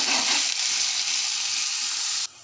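Chopped onions frying in hot oil in a pan, a loud dense hiss of sizzling that holds steady, then cuts off abruptly near the end.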